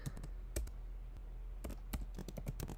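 Keys clatter on a computer keyboard in a quiet room, in short irregular bursts of close, crisp taps with brief pauses between them.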